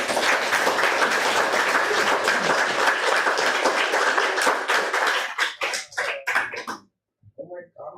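Audience at a poetry reading breaks into applause, a full crowd clapping steadily before it breaks into scattered individual claps, then a brief silence and a few faint noises like a cough.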